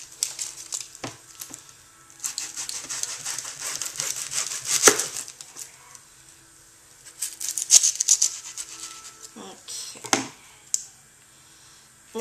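A red onion being cut with a knife on a board while making paella, heard as soft irregular chopping taps and crinkly rustles, close and moderately loud, in bursts with pauses.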